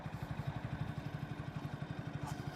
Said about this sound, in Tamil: சாஃப்டான எக்ஸாஸ்ட் நோட்டு தான் ரொம்ப லவுடுன்னு சொல்ல முடியாது